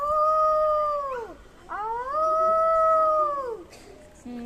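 A voice imitates a fox howling: two long, loud, wavering howls close by, the first falling away at the end, a brief pause, then a second sustained howl that also drops off.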